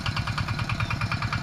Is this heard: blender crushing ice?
no